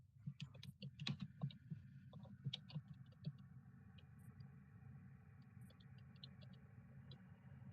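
Rapid clicking keystrokes on a computer keyboard, faint and somewhat distant over a steady low hum, in bursts that thin out toward the end.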